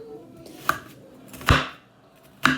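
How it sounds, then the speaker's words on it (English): Three sharp knife chops on a small cutting board while an onion is being cut, spaced apart with quiet pauses between, close and fairly loud. "I'm using that to cut my onion"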